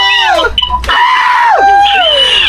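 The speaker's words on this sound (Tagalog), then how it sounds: "Hoy, wag ka sumigaw." A person screams loudly and close up in several sharp, high-pitched bursts, with wavering and swooping pitch and brief gaps between them.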